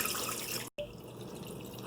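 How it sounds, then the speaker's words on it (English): Running tap water splashes over soaked sticky rice as it is rinsed in a sink, a steady close wash of pouring and dripping water with one brief break. "go ahead, rinse it out"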